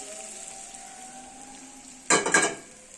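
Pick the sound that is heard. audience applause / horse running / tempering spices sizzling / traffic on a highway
tempering spices sizzling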